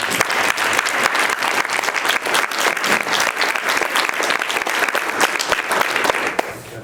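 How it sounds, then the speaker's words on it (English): A city council candidate forum audience gives a sustained round of applause, dense steady clapping from a crowd that carries on for several seconds before thinning at the end. "why don't we give a round of applause for everyone?"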